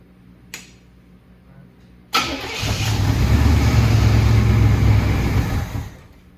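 A Chevrolet Monte Carlo SS engine cranks and fires into a loud, rough run that holds for a few seconds, then fades off as it fails to settle into an idle, heard close after a short quiet lead-in.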